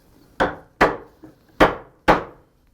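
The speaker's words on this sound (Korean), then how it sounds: "제가 망치로 조금 쳐서 이렇게" A hammer taps a wooden dovetail joint together: four sharp, close knocks at a steady pace with one fainter tap between, each ringing briefly in the wood.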